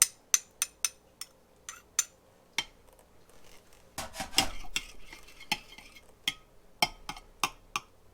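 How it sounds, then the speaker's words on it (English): A utensil stirs grated garlic and ginger into a marinade in a bowl, making sharp, close clinks and taps against the bowl in an irregular rhythm. A brief stretch of wet, scraping mixing sits in the middle, with no voices. "I'll give all that a good stir."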